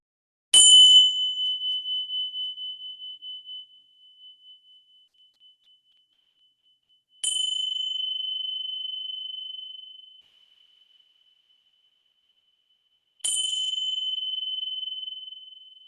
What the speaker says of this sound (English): Now I'm going to ring the magic listening bells